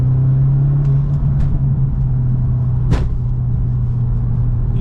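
Audi S3 2.0 TFSI 8V with stock exhaust and aftermarket air intake, a steady deep idle drone with a brief sharp blip near the middle, loud and close with no talk.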